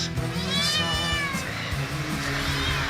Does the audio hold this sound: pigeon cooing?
no